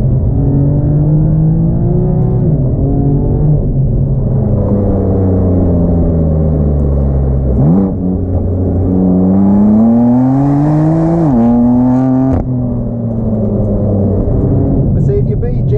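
A 2018 BMW M4 CS engine pulling hard under throttle from inside the cabin, a loud continuous drone rising in pitch through the gears, with quick drops at two shifts.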